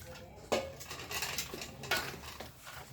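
Boiled water is poured into a Lao-style laab mak jong with ground fish and stirred in a bowl, giving clinking utensil knocks and scraping in uneven bursts, close and moderately loud, with no talking.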